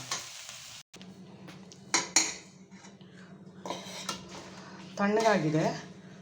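Low sizzling of onions frying in a pan, with scraping stirs and clinks of a utensil against metal; a brief voice appears near the end.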